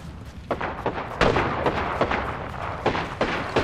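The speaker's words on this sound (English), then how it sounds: "Throwing thermite grenade" A thermite grenade goes off amid gunfire in a video game, with a burst of booming impacts and repeated crackling shots that are fairly loud and continuous.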